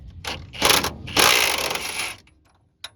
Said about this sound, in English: let me get my socket on here. I'll hold this in place and we'll try to get this nut off of here